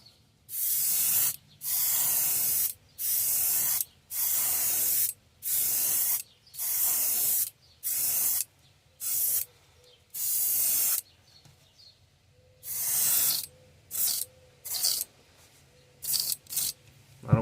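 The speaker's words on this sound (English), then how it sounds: "we're not just going to blast this on. I've got my air pressure turned down now." An airbrush at lowered air pressure sprays paint onto a handmade fishing bait in a long series of short hissing bursts, each lasting about a second, with brief silent gaps between them, close and fairly loud, with no talking.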